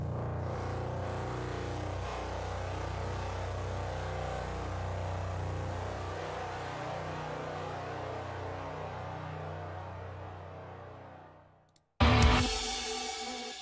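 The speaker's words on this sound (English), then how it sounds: "But the bass sounds like this." A bass guitar plays the low line of a rock song, a steady, loud, sustained rumbling tone heard alone for about twelve seconds before it cuts off and a brief different burst of sound begins.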